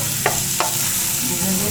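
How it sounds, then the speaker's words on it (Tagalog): Onion, garlic and ginger sauté in a pan with a steady close sizzle, and two sharp scrapes of stirring come near the start. "ang ginagawa niya ho ay gisa ng sibuyas, bawang"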